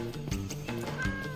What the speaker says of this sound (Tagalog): Yan yata yung pusa ni Santino.